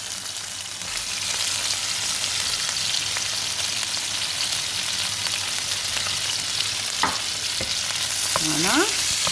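Veal fries with onions in a pan, a broad steady hiss of sizzling that strengthens after the first second, with occasional utensil clicks and scrapes near the end.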